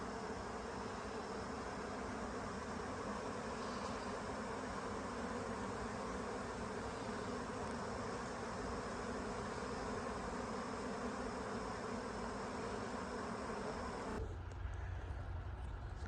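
Honey bees swarming around a hive, making a dense, steady droning buzz that holds evenly throughout, with no one talking.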